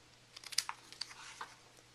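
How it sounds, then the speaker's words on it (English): Scissors trimming paper for a handmade card, a short run of crisp snips and light crinkles close to the microphone, quiet and irregular, with no one speaking. "Use my scissors to just trim this off"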